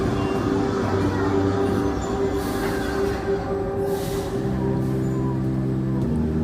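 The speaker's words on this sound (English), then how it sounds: "another train should come out the station, down the bottom there" Roller coaster train rumbling out of the station at Alton Towers, a loud continuous low roar with rail hum and brief squealing hiss, heard from nearby without speech.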